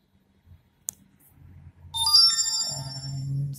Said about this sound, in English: I got the message alert.